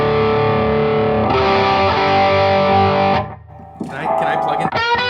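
Electric guitar played through an MXR pedal into an amp, a sustained distorted chord ringing out for about three seconds, then a pause and a few more picked notes and strums.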